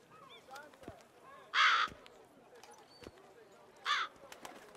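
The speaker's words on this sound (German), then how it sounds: "Das sind bestimmt nicht Detlefs Raben" Ravens caw twice in The Witcher 3, two short harsh calls a couple of seconds apart, standing out over a quiet, faintly chirping ambient background.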